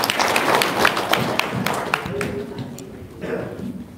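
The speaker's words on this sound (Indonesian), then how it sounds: "Tepuk tangan dong." An audience at an Indonesian seminar bursts into brief clapping that fades within a few seconds, mixed with voices talking over it.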